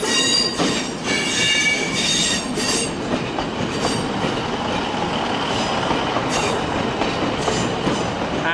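A Class 150 diesel train moves through Manchester Piccadilly station with close, loud rolling wheels, rhythmic clatter and squealing wheels, and no talk over it.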